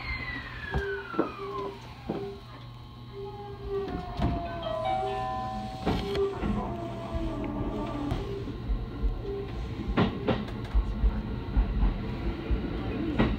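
A JR E131 series electric train on the Tsurumi Line, Tsurumi to Hamakawasaki in one-man operation, rumbles steadily throughout with rising and falling motor whine, short rhythmic clacks of the rails and brief electronic tones, with no one speaking.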